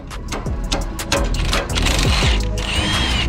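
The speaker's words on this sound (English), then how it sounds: "he lifted up on the lift a little bit" A Redline Stands car lift in a home garage raises, giving a close, loud run of mechanical ratcheting clicks and grinding over a low motor hum that builds to a steady whine toward the end.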